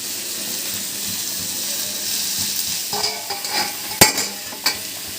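Steady frying sizzle of onions sautéing in a pan, with scraping stirs and a few sharp clinks of a utensil toward the end.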